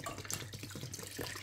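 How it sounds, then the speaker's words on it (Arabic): Water from a kitchen tap runs into a cooking pot for boiling chicken, a short steady splashing gush close by, alone without voices. "هلا رح زيد المي ودور الغاز."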